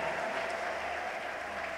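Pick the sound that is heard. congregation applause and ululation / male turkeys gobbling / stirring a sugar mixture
congregation applause and ululation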